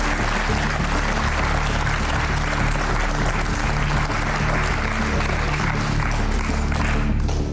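Sustained studio audience applause from a Bulgarian game show, steady and dense throughout, loud and close with no voices over it.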